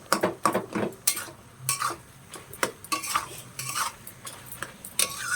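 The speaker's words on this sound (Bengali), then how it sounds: "একটু ভালো করে এবার নাড়তে হবে।" Repeated scraping and clinking of a utensil stirring spinach and shrimp in a pan, close up, in an irregular rhythm with faint sizzling underneath.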